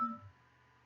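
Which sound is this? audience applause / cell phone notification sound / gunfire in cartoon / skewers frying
cell phone notification sound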